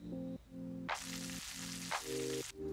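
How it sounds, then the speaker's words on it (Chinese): Firm tofu pan-frying in a little oil over medium-low heat, a close sizzle with two sharp hissing surges, alone with no talk. "先煎豆腐至表面金黄"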